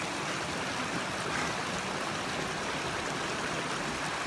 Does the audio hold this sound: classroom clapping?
no